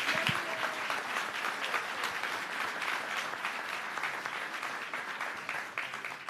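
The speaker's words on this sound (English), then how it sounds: "let's give Anna a round of applause for speaking up" At a Brooklyn town hall meeting, an audience gives a sustained round of applause, many hands clapping densely and evenly, moderately distant and fairly quiet, tapering slightly toward the end with no speech over it.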